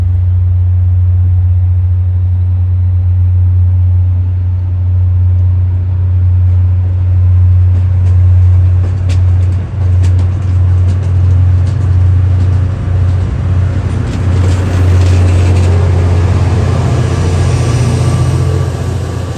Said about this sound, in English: The fresh coat of purple paint on this F40PH 3C glimmers distinctively in the afternoon sun as the locomotive confidently pushes its train towards Boston